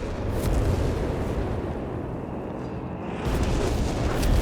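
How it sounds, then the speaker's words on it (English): Heavy artillery strikes pound the battlefield in the strategy game Company of Heroes 3, a dense rolling roar of overlapping explosions with rumbling booms that swell and keep going, loud and continuous. "Massive artillery strikes in there."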